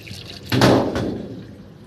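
Household tap water suddenly gushing on, a bright splashing burst that then settles into a steadier, fading flow, close by, with no voices.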